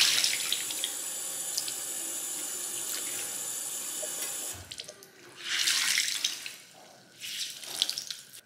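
Cold tap water runs steadily from a faucet to wet a cleaning cloth, a continuous hiss that stops abruptly, followed by splashing and wringing sounds, close by with no talk.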